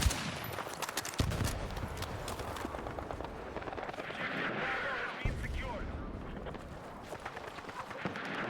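Rapid video game gunfire cracks in dense, steady bursts over a busy background, loud and continuous, with sharp louder shots near the start and midway.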